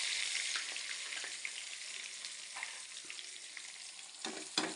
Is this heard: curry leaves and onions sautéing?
yes